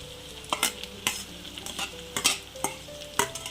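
Okra frying in coconut oil with tender coconut, stirred briskly with a utensil: repeated scraping clacks against the pan roughly every half second over a steady sizzle.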